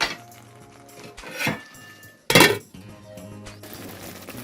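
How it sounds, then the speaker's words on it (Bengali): A lid is set over a pan of spicy sausage spaghetti sauce, making metallic clanks and rattles, with one loud bright clatter in the middle and quieter clinks around it. "ওগুলোকে ডাকনা দিয়ে ঢেকে দেবো"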